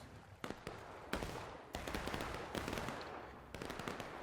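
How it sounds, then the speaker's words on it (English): Scattered rifle and musket gunfire in a Smoke and Steel Civil War-era multiplayer battle, sharp cracks and pops at varying distances, some close and loud, others distant, with no talk. "And they're shooting us."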